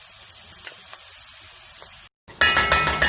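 Ginger garlic paste drops into hot ghee with golden-brown fried onions, bursting into a loud, dense sizzle after a brief gap, following a quieter steady hiss of frying.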